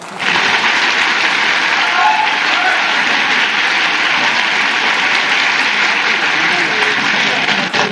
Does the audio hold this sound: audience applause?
yes